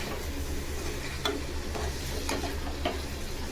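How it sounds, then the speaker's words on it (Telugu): A coriander, mint, tomato and green chilli mixture is stirred in a pan, a steady soft sizzle running throughout with a few sharp scraping strokes of the spoon, close and alone without talk. "ఇప్పుడు ఇది ఒకసారి అంచుకొని ఇట్లా కలుపుకుందాం"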